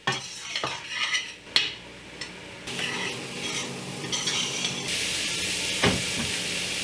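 Ground beef for chili is stirred and fried in a pot over medium-high heat. A utensil scrapes the pot in irregular strokes over a steady sizzle, with occasional sharp metallic clinks, close by and alone.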